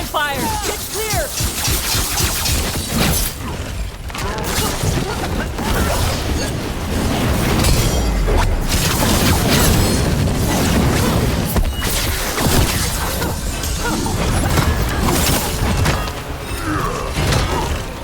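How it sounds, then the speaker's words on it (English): Cannon fire in Dragon Age: The Veilguard, a dense, continuous barrage of booms, creaking mechanisms and crashing debris, with voices shouting through the din. "Cannon fire! Get clear!"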